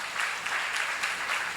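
A Korean church seminar congregation claps steadily, many hands making a dense, even wash of applause with faint rhythmic pulses. No voice rides over it.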